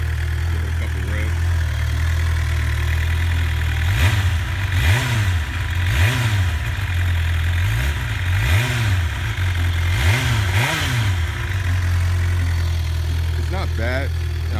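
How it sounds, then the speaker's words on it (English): A 2019 Suzuki GSX-R 750 on its stock exhaust idles, then gets about six sharp throttle blips that rise and fall in quick succession, loud and close over the steady idle. "Give it a couple revs."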